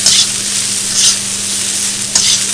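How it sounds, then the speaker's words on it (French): Rice is stir-fried in a wok for Thai street-food fried rice, making a loud, close, continuous sizzle that swells with a few tossing surges, with no voices. "Pour faire sauter le riz, il faut avoir un wok à ce niveau-là."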